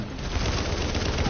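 Dense, continuous enemy gunfire in the shooter video game The Division, a loud sustained barrage of overlapping shots with no clear gaps, heard alone.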